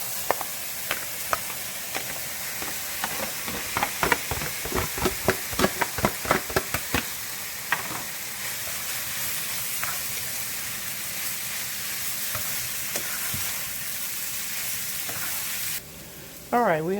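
Sausage and vegetables hit a pan of ground turkey with a burst of loud sizzling and a run of rapid clattering stir strokes, then settle into a steady hiss before a short break near the end.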